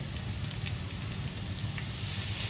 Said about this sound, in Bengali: এবার এতে আমি টমেটো কুচিটা অ্যাড করে দেবো।